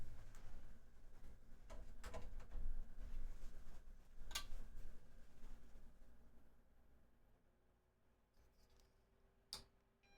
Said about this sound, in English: I hear the drive going.